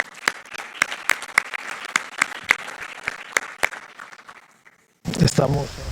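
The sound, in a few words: audience applause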